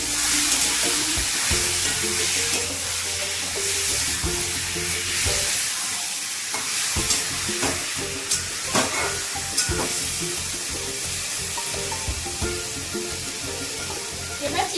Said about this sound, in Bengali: এবার ম্যারিনেট করে রাখা চিকেনগুলো দিয়ে দিচ্ছি।